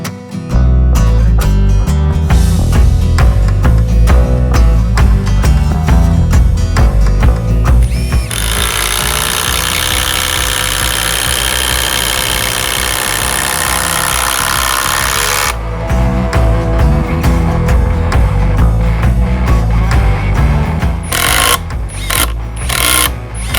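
HiKOKI WH18DBDL2 cordless impact driver, a four-setting tool rated for bolts and screws up to M20, hammering loudly in rapid impact bursts and then whining in one long continuous run, close up and with no talk.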